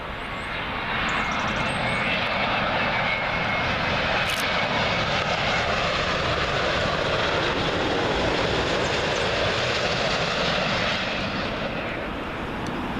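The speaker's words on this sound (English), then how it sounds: "Next up for you, British Airways 787-9 Dreamliner. This one from Delhi." A British Airways Boeing 787-9 Dreamliner from Delhi lands on runway 27L at Heathrow, its jet engines a loud, steady roar that fills the whole stretch without a break.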